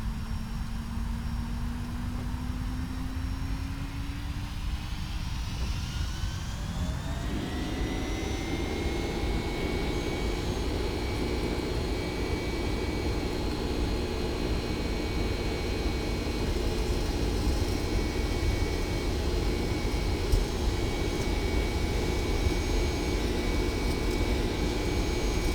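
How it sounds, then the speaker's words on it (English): Jet engines spooling up for takeoff in the X-Plane 11 flight simulator, a steady loud roar with a rising whine that climbs over the first several seconds, then holds as a sustained high-pitched drone. "So check out the sound of these engines."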